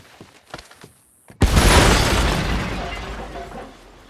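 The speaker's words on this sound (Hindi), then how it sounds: "इसलिए मैं अपना डायनामाइट निकालता हूँ और दोनों बॉडीज के बीच फेंक देता हूँ।" A few light clicks and taps lead into a sudden loud blast, followed by a long rumbling, crackling decay from a dynamite explosion in Red Dead Redemption 2.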